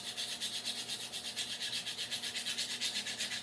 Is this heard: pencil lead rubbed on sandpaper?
yes